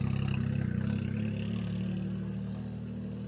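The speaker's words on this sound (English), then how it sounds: "And listen to the car. It will talk to you. It will show you how fast it is." A 1,500-horsepower four-wheel-drive hillclimb race car with a big rear wing and intercoolers accelerates at the Simola Hillclimb, a loud, steady low engine roar with a gritty rasp that holds for several seconds, no voices.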